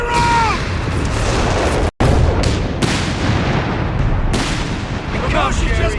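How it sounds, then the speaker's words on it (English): Artillery shells land in the Company of Heroes 3 battle game, a dense run of loud booms and blasts packed closely together, with gunfire crackling in between and voices calling out over the din. "Artillery!"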